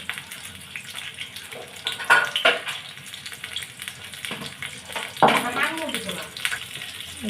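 Potatoes and onions sizzle in a pan as a beef curry is cooked, a low steady fry with occasional clatter and scraping, no one talking.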